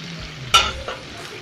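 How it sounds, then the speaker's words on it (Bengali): Chicken being stirred and fried in a pan for chicken fried rice, with a soft sizzle under one sharp close scrape of the spatula and a lighter second stir. "এখন আসুন ভালো করে আপনারা চিকেন রান্না করে নিন।"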